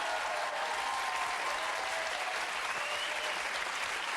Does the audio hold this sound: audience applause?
yes